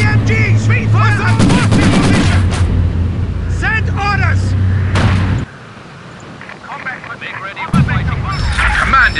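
Heavy machine gun fire in a war video game, rapid thudding bursts alongside artillery booms, mixed with shouted in-game voice commands and radio chatter throughout.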